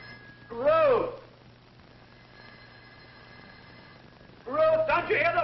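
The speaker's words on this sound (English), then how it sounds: "don't you hear the phone?" A telephone bell rings in a quiet indoor room, a brief trill followed a few seconds later by another, with a faint steady hum between the rings, in a 1962 horror film.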